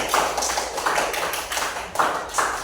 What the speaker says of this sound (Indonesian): Tepuk tangan buat temannya Rizky